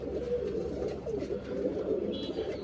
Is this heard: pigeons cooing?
yes